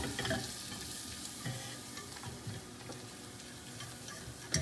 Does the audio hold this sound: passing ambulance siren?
no